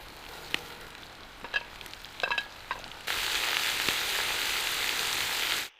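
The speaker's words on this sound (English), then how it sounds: "Now you can add the carrots." Carrots added to fried onions for Uzbek plov: light stirring clinks and scrapes at first, then a loud, steady sizzle bursts up and holds close before cutting off.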